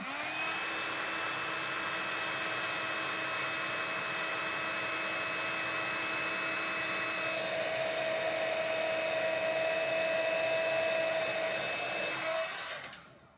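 A heat gun blows a steady, loud whirring hum while embossing a stamped white-on-red card, running continuously before cutting off near the end.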